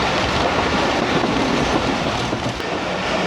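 The Karakoram Express rolls through Raiwind Junction with a loud, steady rumble and rhythmic wheel clatter, close and continuous throughout.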